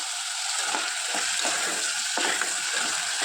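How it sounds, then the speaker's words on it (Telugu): Tomato pieces, curry leaves and potato pieces stirred in a hot pan for khichdi, with a steady sizzle of frying and several soft scraping strokes of the spoon at a close, even level. "టమాటా ముక్కలు అలాగే కొద్దిగా కరివేపాకు బంగాళదుంప ముక్కలు వేసుకొని బాగా కలుపుకోవాలి"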